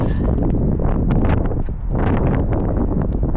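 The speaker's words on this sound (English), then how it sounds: "So that side gets the wind." Strong wind blows against the side of a motel in Anchorage, a loud, continuous rushing roar with gusty rustling texture and a brief lull midway.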